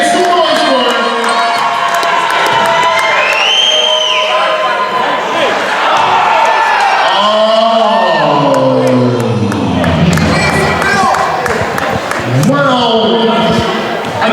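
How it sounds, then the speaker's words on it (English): Crowd at a Colorado Kings vs OKC basketball game cheers and whoops loudly and continuously, with shouts and rising yells over a steady roar. "Make some noise for him."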